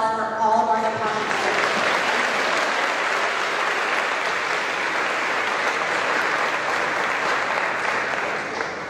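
An audience at a high school awards ceremony claps steadily and fairly loudly, a dense, sustained wash of hands that holds for the full stretch after a brief voice at the very start.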